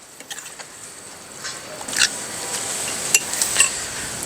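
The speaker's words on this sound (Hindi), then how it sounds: "अच्छी तरह इसको भी मिक्स कर लेंगे।" Tamarind pulp being stirred into tomato chutney in a pan, with soft scraping and light clinks of a spoon against metal and a faint sizzle underneath.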